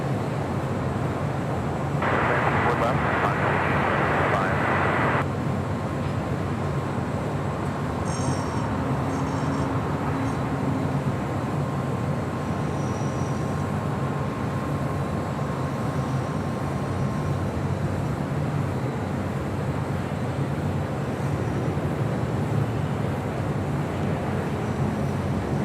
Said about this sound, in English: Back-to-back American Dreamliner arrivals on 24 left.